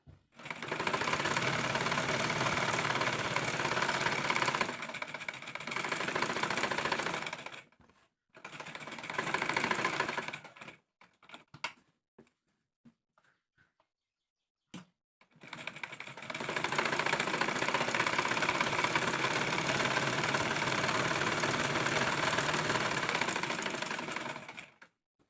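A sewing machine stitches cigarette pant pieces, joining the back crotch seam, in long steady runs of rapid mechanical whirring. Several runs are broken by short pauses and brief start-stop bursts, all close and loud, with no talking.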